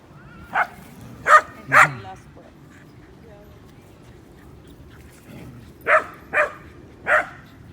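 Sharp barks and yips from dogs playing at a park come in two short bursts of three, close by, separated by a few seconds of quiet background.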